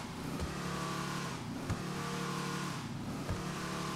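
A car engine in the video game GTA 5, a rusty old junkyard car, idles and revs in a steady, rumbling drone with a few faint clicks, fairly quiet and without talk.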